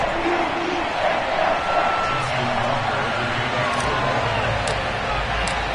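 Stadium crowd noise from an EA Sports NFL video game, Baltimore Ravens home game against the Los Angeles Chargers, a broad continuous roar of cheering held under steady commentary.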